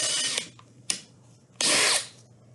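A power drill reaming back through a hole in wood for a drawer knob coat rack, three bursts: a short whir, a brief blip, then a longer loud spin, with quiet gaps between.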